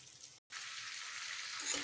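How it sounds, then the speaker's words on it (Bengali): Meat sizzles in hot oil with cooked-down spices in a wok-like kadai, a steady, close hissing fry with a brief break, then continuing evenly. "তাই মাংস দেওয়া হয়ে গেছে আমার কড়াইতে,"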